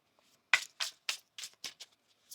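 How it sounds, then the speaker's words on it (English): A tarot card deck being shuffled by hand, a close series of about six crisp riffling bursts in quick succession with no talk. "One more shuffle."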